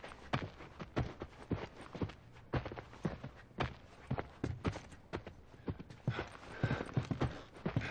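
Hooves clip-clop in an irregular, continuous patter of sharp knocks, like several horses walking on hard ground, fairly close and without talk, in the video game The Last of Us.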